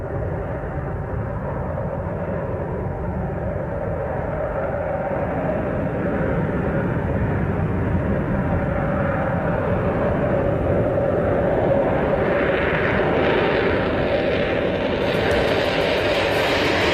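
A Northrop YF-23 Black Widow jet powers up for takeoff, a broad, steady roar that swells gradually and brightens toward the end as the engine noise rises.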